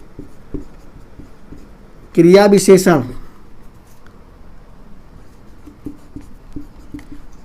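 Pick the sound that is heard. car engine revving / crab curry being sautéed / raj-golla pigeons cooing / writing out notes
writing out notes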